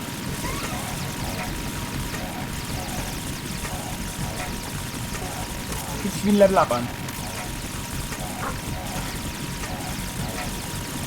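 A Harrier jet in Metal Gear Solid 2 drones as a steady, loud engine roar throughout, with a brief louder swell midway, while someone talks over it.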